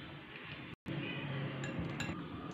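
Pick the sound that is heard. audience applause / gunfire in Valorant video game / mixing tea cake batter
mixing tea cake batter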